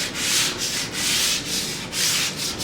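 Sandpaper rubs over the finish of a picture frame, taking the shine off in steady back-and-forth strokes, loud and close with a regular rhythm of about two strokes per second.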